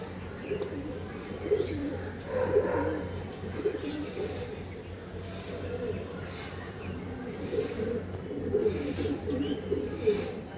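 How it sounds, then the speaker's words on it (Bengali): Pigeons give soft, repeated throaty coos in a loose rhythm at close range, alongside faint chirps and quiet background talk. "দেখুন পায়রাটা দেখুন।"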